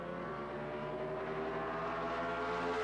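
Drag race cars, a Chevrolet Camaro and a Monza-bodied car with a smaller motor, launching together off the line at the Gatornationals; a loud, steady, droning engine roar sustained throughout.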